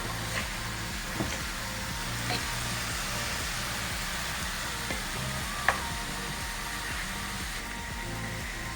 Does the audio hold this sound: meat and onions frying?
yes